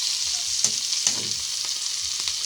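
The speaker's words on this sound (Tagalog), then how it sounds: "nagigisa nga pala tayo ng sibuyas" Onion, tomato and garlic sauté in rendered meat fat, giving a continuous bright sizzle with a few sharp spatula scrapes and stirs.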